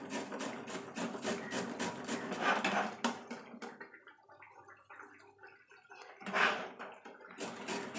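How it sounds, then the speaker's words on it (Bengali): Radish is rubbed against a grater in rapid rhythmic rasping strokes, close and soft, pausing for a few seconds before resuming, with no talk. "মূলগুলো আমি একটা গ্রেটারের সাহায্যে গ্রেট করে নেব।"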